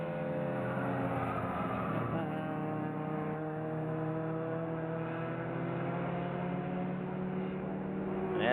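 Race cars, an Acura Integra among them, drone around a track in a continuous sustained engine roar, steady and fairly distant with shifting pitch.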